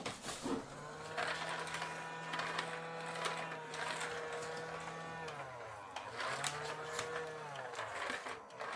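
A toy Dyson vacuum cleaner runs with a steady, faint electric whine whose pitch dips briefly and recovers, alongside scattered light rattles and clicks.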